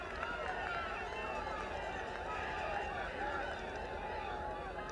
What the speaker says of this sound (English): as we hear the crowd in the background.